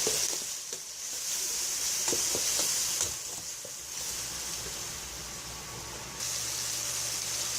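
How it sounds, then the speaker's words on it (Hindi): Garlic, ginger and green chili paste with tomato sizzles and fries steadily in a pan, with occasional stirring scrapes and a constant hiss of oil throughout. "लहसुन, अदरक और सब्ज़ मिर्च का पेस्ट डाल दूँगी। अभी हम इसको अच्छे से भून लेंगे।"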